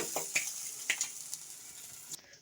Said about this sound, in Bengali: তো এখানে মাছগুলো হালকা ভাজা হয়ে এসছে